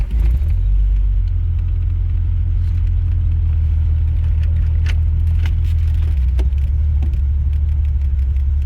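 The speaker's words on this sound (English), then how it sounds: "Today we're going to be taking out this 1974 Triumph" A 1974 Triumph TR6 convertible drives on a spring road in Wisconsin, its engine a loud, steady, close rumble with light rattles and road noise throughout.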